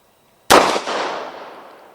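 A single sharp gunshot from a Beretta 92GTS pistol fired double action on the first shot, loud and close, with a sudden crack and a long ringing decay trailing off over more than a second.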